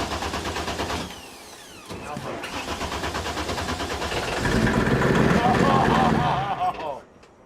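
An engine on a helicopter-powered party barge cranks and catches after refuelling, the cranking pulsing before it builds into a loud, steady running roar, with someone talking over it.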